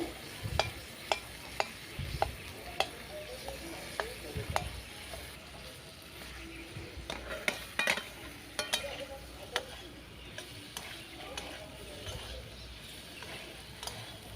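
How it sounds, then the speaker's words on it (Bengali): Boiled potatoes fry with salt and turmeric in a pan, a soft quiet sizzle broken by irregular sharp spatula clicks and scrapes as they are stirred. "আলুটাকে একটু ভেজে ভেজে নেব মশলার সাথে।"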